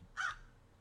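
A single short crow caw from the video game West of Loathing, clear and fairly close against a quiet background.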